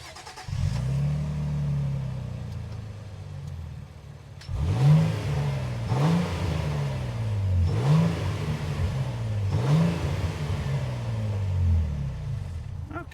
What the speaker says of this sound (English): Craig, let's hear the exhaust.